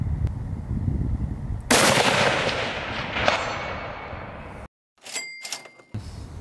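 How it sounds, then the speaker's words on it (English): A Bergara B14 rifle fires at a steel target about 400 yards away: a loud, sharp blast with a long rolling outdoor decay, then a quieter distant impact ring. Wind noise runs underneath. "The muzzle blast is crazy."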